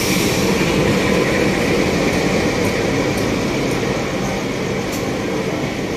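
A passenger train, the Mutiara Selatan KA131, rumbles steadily and loudly nearby as it enters Tasikmalaya station, wheels roaring on the rails with faint metallic squeals above the din.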